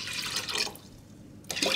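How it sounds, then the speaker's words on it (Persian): Water poured into a pot of lentils for Iranian dal adas, a short splashing stream that fades, briefly pauses, then resumes close and loud. "من یه مقدار دیگه اضافه کنم آب."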